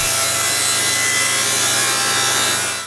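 A hand saw cuts through a large, thick piece of wood in a workshop, a loud, continuous rasping drone close by that runs steadily without pause and fades slightly at the end.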